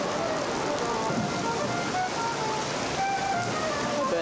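Rain falls at an outdoor benefit concert as a dense, steady hiss, with faint tonal sounds drifting through it.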